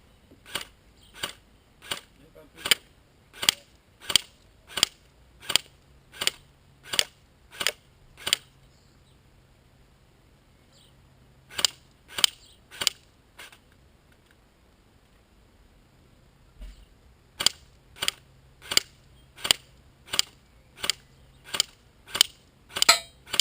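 An ARES TAR-21 S-Class airsoft rifle firing single shots in three bursts, sharp crisp cracks at a steady rhythm with short pauses between groups, close and clear with no voices.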